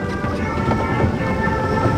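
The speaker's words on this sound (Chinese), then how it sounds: "惨了哦，下雨添。" Steady rain falling with rumbles of thunder during a day out in Ipoh, Malaysia, a continuous dense wash of noise at fairly constant loudness, with no talk over it.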